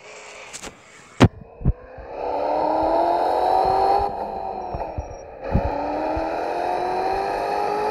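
A BMW 3 Series engine revs and holds a rising whine as tires drift, with a few sharp clicks early on, loud and close.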